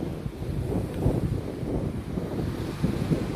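Ocean waves rolling and washing ashore on a beach, a steady low rumble of surf mixed with wind buffeting the microphone, with a couple of slightly stronger surges, and no talking.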